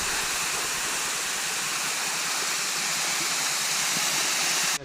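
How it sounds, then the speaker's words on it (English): A waterfall at Pluma Hidalgo, Oaxaca, Mexico pours in a steady, loud roar, close and continuous. "That's the waterfall."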